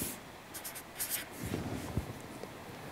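Pen or marker scratching numbers onto a sheet metal layout, faint short bursts of close scribbling strokes with a few soft taps and small handling sounds in a quiet room.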